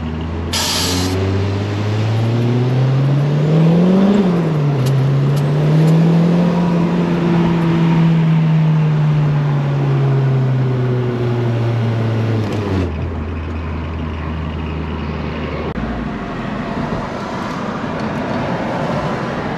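Interior sound of a Honda Prelude driving and accelerating: a loud engine note rising and falling through gear changes, then settling to a steadier cruise with road and wind noise, continuous for about twenty seconds.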